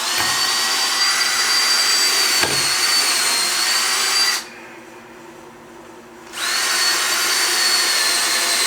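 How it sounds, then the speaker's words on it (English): A power drill drilling pilot holes whirs steadily at close range, pausing briefly partway through, then spinning up again and running on; no one speaks. "I'm going to go ahead and drill a couple of pilots"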